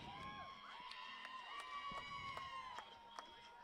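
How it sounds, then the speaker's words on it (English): Fans in the stands at a women's ultimate frisbee game cheer and shout a player's name, with high ringing yells and scattered claps layered over speech. "Definitely an Abby fan club in the stands cheering her name"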